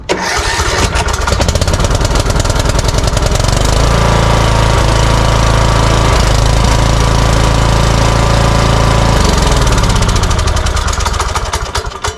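A riding mower engine cranks with rapid chattering, catches and settles into a loud, steady close-up running drone that fades slightly at the end.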